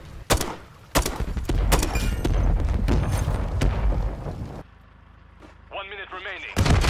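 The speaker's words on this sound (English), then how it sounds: "this will go right through the window and blow up the bike that's actually next to the apartments" A grenade launcher round fired in Modern Warfare III on the Rio map through an apartment window, blowing up a parked bike, gives a string of loud booming blasts and gunfire-like cracks, then a quieter lull with a warbling tone before another bang.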